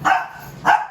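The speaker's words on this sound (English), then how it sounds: "the dogs are going crazy because they hear probably deer or animals" Dogs bark excitedly at night, apparently at deer or other animals: two loud, sharp barks about half a second apart, close by, with no talk.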